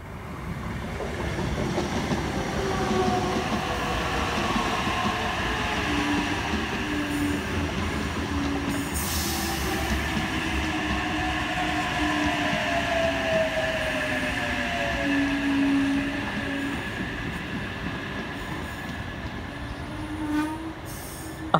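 A Wyong-bound passenger train pulls into platform 2 at Cowan station on the Central Coast and Newcastle line, a steady loud rumble of wheels with faint squeals and a distant horn throughout, no talking.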